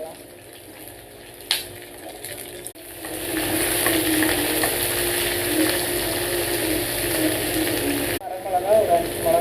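Onion, chana dal and garlic fry in a pan with a sustained loud sizzle, broken by metallic clanks and scraping as the mixture is stirred, and a brief knock near the end.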